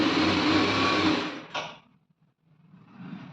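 A sewing machine stitching a blouse runs with a steady, dense whir for about a second and a half, then stops abruptly, leaving near silence and faint low rustling.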